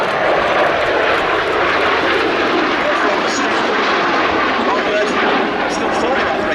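A BAC Strikemaster light attack jet with a Viper engine flies a display at an air festival, producing a loud, steady broadband engine roar that holds throughout the clip.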